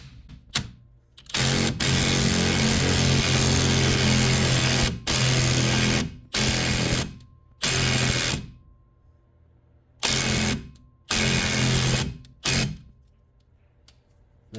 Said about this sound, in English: the impact drill is going to be your best friend here